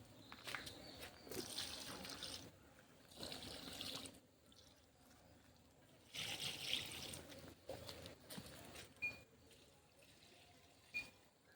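Liquid organic slurry poured onto bean plants in a garden, heard as intermittent splashing and trickling bursts at close range, with quiet pauses between pours.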